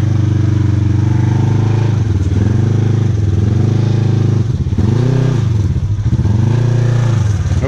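Motorcycle-type machine engine climbing a slope at a crash scene, loud and close, repeatedly revving up and easing off in uneven surges with some clatter.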